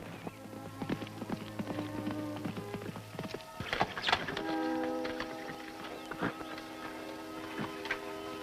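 A riderless horse gallops past in an outdoor western scene, its hoofbeats clattering in quick uneven bursts over a busy soundtrack of music and other noise, loud and fairly close.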